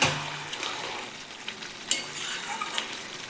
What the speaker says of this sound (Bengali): আমি এটাকে ভালো করে একটু নেড়ে দিচ্ছি আর এই সময় আমি একটু গ্যাসের ফ্লেমটা বাড়িয়ে দিলাম